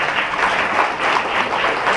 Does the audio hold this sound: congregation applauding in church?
yes